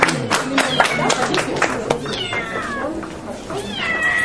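Kittens and cats meow repeatedly at a Thai cat show, with shrill mewing calls rising over a busy hall of crowd chatter, scattered clapping and nearby talking voices.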